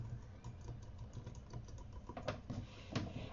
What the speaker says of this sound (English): you'll want to type in a subject